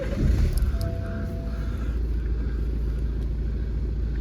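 A 2.0 litre BMW 120d BluePerformance diesel starts with a short low burst, then settles into a steady, close rumbling idle with faint clatter.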